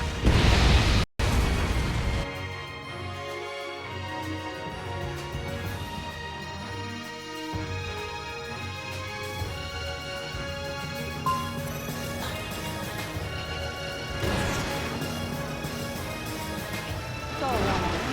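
In the combat flight game Ace Combat 7, a heavy missile blast booms at the start, then a jet roars steadily with more muffled impacts under game music and radio chatter.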